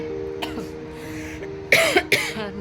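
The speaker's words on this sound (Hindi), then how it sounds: "मुझे हल्की हल्की खांसी भी चली रही है" A woman coughs several times close up, short harsh bursts coming in quick succession near the end after a quieter throat-clearing sound at the start.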